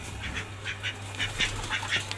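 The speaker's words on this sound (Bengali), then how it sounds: "আমাদের হাঁসগুলান পুকুর থেকে চলে আসলো। আসার সাথে দেখেন যে কি জানি ভাই ভাত খাওয়া শুরু করছে।" A small flock of ducks quacks in short, repeated bursts while feeding on cooked rice beside a pond, the calls fairly close and irregular over a low steady background hum.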